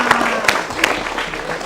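Audience applause in a school hall during a pantun exchange at SMK Bina Sriwijaya, Palembang, a few scattered claps standing out from a busy crowd murmur, with voices talking throughout.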